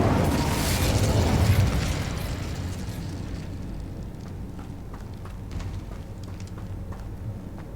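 Incendio fire spell cast in Hogwarts Legacy: a loud, roaring fiery blast that swells over the first two seconds, then fades into a low, lingering rumble with faint crackles.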